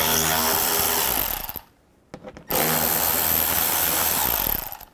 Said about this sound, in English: I'm going to use a 7mm socket